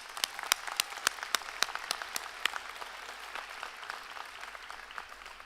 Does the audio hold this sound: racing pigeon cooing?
no